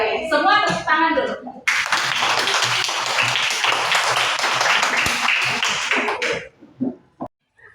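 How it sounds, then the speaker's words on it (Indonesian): A group claps hands together during an academic coaching session. A voice speaks briefly first, then several seconds of fairly close, dense clapping follow and end abruptly, with a couple of stray sounds after. "semua tepuk tangan dulu"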